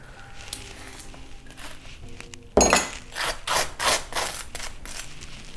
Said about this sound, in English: so I'm just going to do more of a scraping